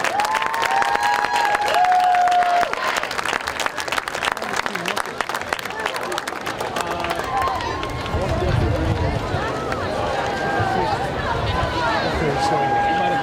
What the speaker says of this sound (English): How about giving everybody involved in homecoming a round of applause?